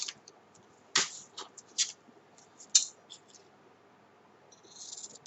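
Scissors cut diagonally to a point through paper or card while making a mail box: a quiet series of crisp, uneven snips and rustles, close and faint, with brief pauses between cuts.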